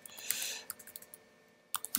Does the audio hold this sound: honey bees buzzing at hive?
no